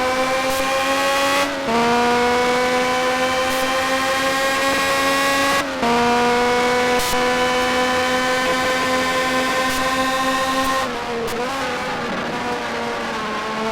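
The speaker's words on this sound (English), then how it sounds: "Very much a possibility with that V12 powering him along the straights." V12 race car engine in the Argentine Grand Prix round of a racing game, a loud, steady high-pitched whine held close, with brief dips at gear changes and a falling pitch near the end.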